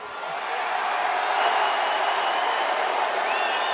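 Dense, sustained roar of an arena crowd after a UFC fight, steady and loud throughout with no distinct voices standing out.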